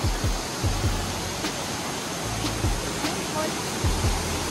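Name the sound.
Daranak waterfall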